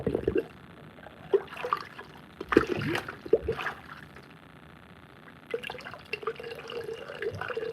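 Liquid pours and splashes in uneven bursts from a sake bottle spout, with gurgles and drips, then a steadier trickle near the end; no speech.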